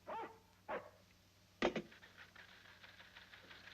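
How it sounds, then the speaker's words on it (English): Dogs barking in an old monster film set at Cape Canaveral, three sharp barks spaced apart, moderately close, followed by faint whimpering and background hum, with no speech. "The dogs are upset, sir, and I can't see any reason for it."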